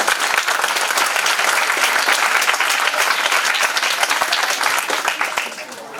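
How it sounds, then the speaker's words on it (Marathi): A large audience applauds prize winners at the Amravati University Junior Hackathon 2025 award ceremony. The clapping is dense and steady, and it stays loud for the full six seconds before easing slightly at the end. "टाळ्या वाजत राहिल्या पाहिजे."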